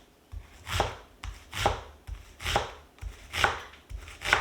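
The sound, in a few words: mincing onion with a knife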